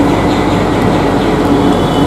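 A metro train runs with a steady, loud rumble and rattle of wheels on track, continuous throughout with no talking.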